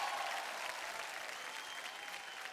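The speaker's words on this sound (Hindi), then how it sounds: "विनय के लिए जोरदार तालियां।" Audience applause at a Bhojpuri award show, a dense sustained burst of clapping from a large crowd, fairly distant and steady throughout.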